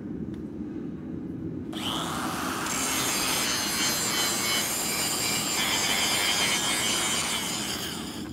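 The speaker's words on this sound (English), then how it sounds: "I'm just going to do a quick grind on it" A Damascus steel lighter blank is ground for a quick preliminary pass, with a harsh continuous grinding rasp starting after a short quieter hum and running steadily and loudly to the end.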